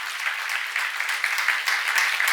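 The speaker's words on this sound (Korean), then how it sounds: "박수하세요." Church congregation applauding together during a sermon, a steady dense wash of clapping hands that holds evenly throughout, fairly close and loud with no talk over it.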